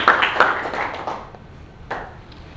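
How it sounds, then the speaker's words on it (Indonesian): A classroom audience in a university geography lesson gives a brief round of applause for group 3: a quick flurry of hand claps that thins out and fades within a couple of seconds, with a last stray clap near the end. "Tepuk tangan untuk kelompok 3."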